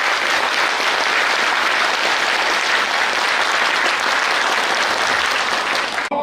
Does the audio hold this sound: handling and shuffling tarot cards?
no